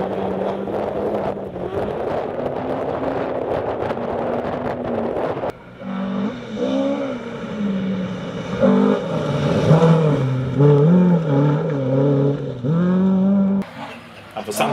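Ford Escort BDA rally car on a Mid Wales forest stage, engine note rising and falling through gear changes as it passes, loud and close with wind buffeting the microphone.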